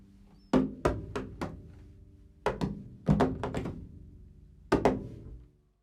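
Hands tapping on the wooden side of a double bass in a jazz setting: several clusters of hollow, resonant thunks, some in quick runs of three or four, each ringing out briefly, close and clear with no talking.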